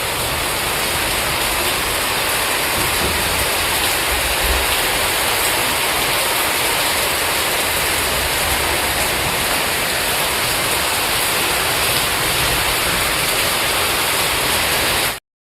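Continuous heavy rainfall, a loud, even hiss with no pauses, ending abruptly.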